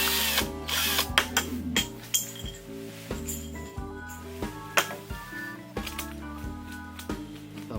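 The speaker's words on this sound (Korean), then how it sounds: "하나 더 뚫고 이제 작은 구멍 하나 더 뚫어보겠습니다. 이 가정용 드릴이다 보니까" A household electric drill boring a small hole while building a farm electrical distribution box, its motor whirring in short repeated bursts with pitch shifts, clinks and rattles between runs, close and fairly loud.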